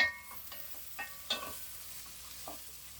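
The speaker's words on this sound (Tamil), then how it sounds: "எண்ணெய் காஞ்சிருச்சு, வெங்காயத்தை உதுத்ததை போட்டுருவோம் பொரியறதுக்கு." Onions deep-fry in hot oil for egg biryani with a faint, low sizzle, punctuated by a few soft clinks and scrapes of a stirring utensil.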